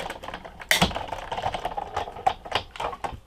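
Hand-cranked die-cutting machine pressing a card sandwich of cutting pads for a Stampin' Up! card, giving a steady run of close clicking and grinding clatter with one sharper knock early on, heard alone.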